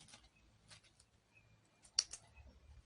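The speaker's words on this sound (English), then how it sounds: "We'll cut the thread" Scissors snipping sewing thread while a blouse is stitched: a couple of quiet, sharp snips close by, with faint rustling between them in near silence.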